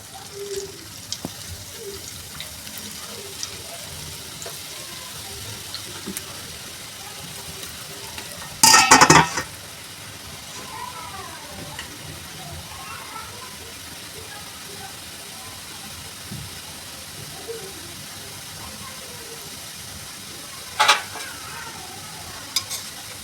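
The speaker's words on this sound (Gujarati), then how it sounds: "અને આપણે તેલ ગરમ કર્યું છે, તો સંચાની મદદથી સેવ પાડીશું." Maize flour sev sizzles steadily as it fries in hot oil, a continuous crackling hiss with a couple of sharp louder bursts midway and near the end.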